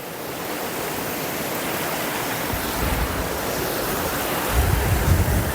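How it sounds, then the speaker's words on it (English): A small stream spills over a tiny waterfall among rocks on a hike near Graveyard Fields and Lower Falls by Asheville, NC, a steady loud rushing wash of water with no voices. "This one's got a tiny little waterfall that you can get to."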